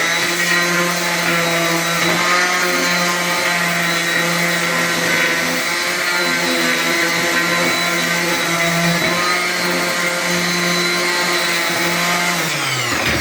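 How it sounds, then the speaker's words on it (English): A steady, loud small electric sander whirs continuously on wood trim, holding an even pitch before winding down abruptly at the end. "then I'll take your little sander"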